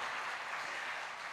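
Steady, dense clapping from a church congregation, sustained at an even level throughout the short moment with no pauses.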